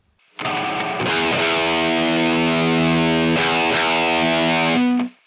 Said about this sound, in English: my lead sounds typically, apart from the higher volume, just include a mid boost and then some time bass effects